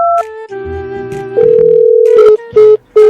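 Electronic telephone tones sound after a call is cut off: a run of steady beeps that shift in pitch, then short repeated pulses near the end. They are loud and close, with no voices.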